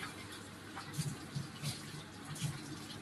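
Water pouring into bottles as they fill, a soft continuous splashing trickle close by with a few gurgling bumps, fairly faint and without talk.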